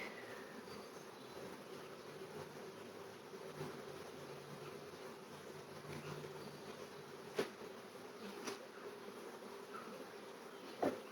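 Agitated honey bees buzz steadily and close during a July hive inspection, a continuous drone with a few sharp knocks standing out near the end.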